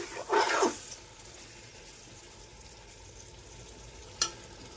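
Vegetables and spices for khichdi sauté in oil, a brief burst of stirring and sizzling near the start, then a faint low frying hiss with one short clatter near the end.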